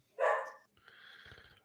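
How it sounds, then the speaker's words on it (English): A dog barks once loudly nearby, followed by a softer growling bark, the sounds standing alone without talk. "I have a dog barking"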